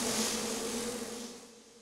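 Cicadas buzz in a dense, continuous drone, loud and close, with a steady high-pitched rasp that fades slightly toward the end.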